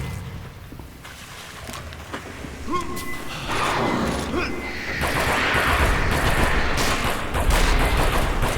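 Video game gunfire during strafing: a busy, loud mix of rapid shots, bursts and booms that builds into a dense barrage, with a voice talking underneath.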